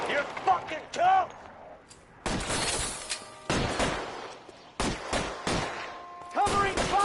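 Video game gunfire in L.A. Noire comes as several loud, sharp bursts of shots separated by brief pauses, with some ringing tonal effects between them.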